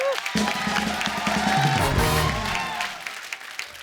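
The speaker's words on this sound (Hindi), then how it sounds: "मेरी इस स्मार्ट इंटेलेक्चुअल बात के लिए जोरदार तालियां बनती हैं" A television comedy show's studio audience bursts into loud applause and cheering, rising to a dense peak and then fading out, with voices mixed into the crowd.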